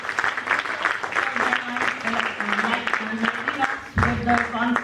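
Applause from a conference audience rises and falls under a voice that talks over it, with a sharp burst of louder clapping near the end.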